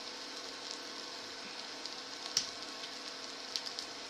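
Onions softening in a pan give a faint, steady sizzle, with a few small crackles popping out near the end.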